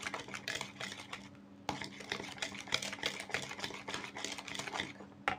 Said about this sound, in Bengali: ঘিটা দিয়ে আমি আবারও ভালোভাবে নেড়ে দিব